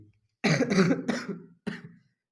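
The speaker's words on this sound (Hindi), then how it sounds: "पता है बोलने में खांसी आने लगती है क्योंकि अभी मैं बीमार था" A few harsh coughs close up: a quick cluster of three, then one more after a short pause, with no talking.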